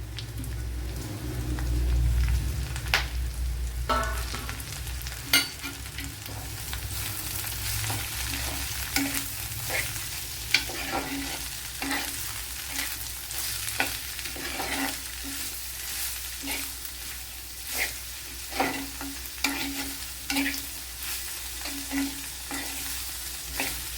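Two large, finely sliced onions frying in a pan for a cauliflower dish, a steady close sizzle with repeated stirring scrapes and taps of the spoon against the pan, no voices.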